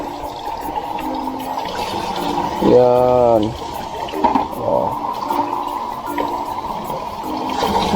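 Rainwater pours from a roof gutter after heavy rain in Piñan, a steady close rushing wash that continues throughout while a person speaks over it.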